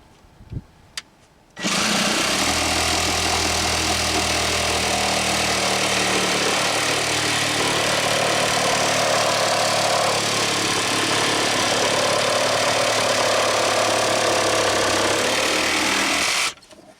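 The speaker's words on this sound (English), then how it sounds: "a battery-powered Sawzall can come in real handy at times." A battery-powered Sawzall reciprocating saw cuts through mine timber underground, running as one loud, continuous buzzing rattle for about fifteen seconds after a couple of brief knocks, then stopping abruptly.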